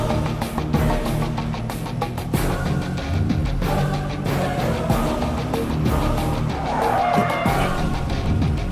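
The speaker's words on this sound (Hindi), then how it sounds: "वेंकी, वेंकी, गाड़ी क्यों रोक दी?" A car skids to a stop on the road, its tires scraping loudly across the surface in one long, continuous burst with a steady engine rumble beneath, no voices over it.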